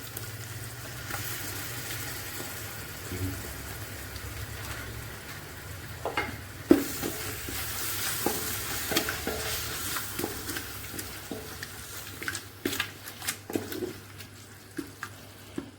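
Yogurt is stirred into a sizzling prawn biryani masala in a pan, giving a steady hiss with repeated soft scraping and clacks of the spoon that grow busier toward the end. No one speaks.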